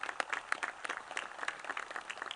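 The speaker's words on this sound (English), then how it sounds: "parents, give them a round of applause" Faint, scattered clapping from a crowd at a high school graduation, distant and uneven, lasting a couple of seconds.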